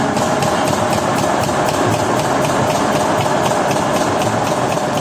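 An automated V4 factory station building wall frames and panels fills the space with a steady, loud mechanical din, broken by regular rhythmic knocks and clanks. No one speaks.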